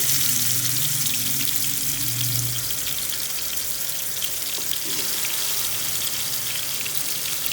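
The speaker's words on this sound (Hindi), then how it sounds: "अभी जो मैंने मैरिनेट किया था चिकन, उसे मैं करने लगी फ्राई।" Marinated chicken frying in a pan for a homestyle chicken tikka biryani, with a steady, dense crackling sizzle that holds evenly throughout, close and fairly loud, with no talking.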